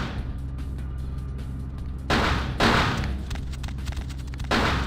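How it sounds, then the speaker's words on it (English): Gunshots in a vampire video game, several loud sharp blasts at irregular intervals over a steady low background hum, with no talking. "You got shot in the ass."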